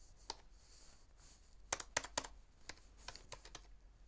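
Keys tapped on a computer keyboard while entering a password on a Linux gaming setup, a few separate clicks, then a quick cluster of sharp close keystrokes and a few more scattered taps, alone in a quiet room.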